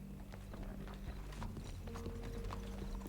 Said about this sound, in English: It's just there's horses everywhere.